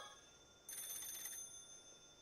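An old-style telephone rings in the horror video game Paranormasight: The Mermaid's Curse, giving one short, bright, trilling ring burst that stops abruptly, heard alone with no voices.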